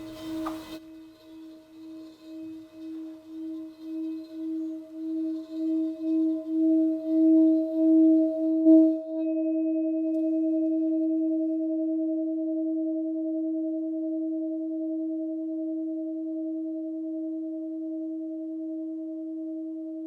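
A Tibetan singing bowl is rubbed so its pure tone swells in pulsing waves, then rings on as a steady, sustained hum for many seconds without voices.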